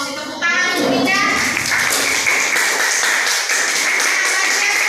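A classroom of students claps together for a classmate, a dense burst of applause starting abruptly and continuing steadily at close range, with children's voices mixed in.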